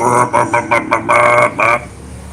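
Chickens at a noisy residence: a run of loud, close squawking calls comes in about six bursts, some short and some drawn out, then fades to a quiet background. No one speaks.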